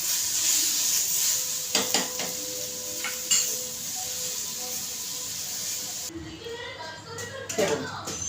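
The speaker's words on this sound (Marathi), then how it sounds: "मी याच्यामध्ये टॉमॅटो टाकते त्याला चांगलं असं शिजवून घेते" Tomatoes frying in a pan for misal pav, a steady sizzle with clinks and scrapes of stirring, close by, dying away near the end as clattering of utensils continues; someone talks over it.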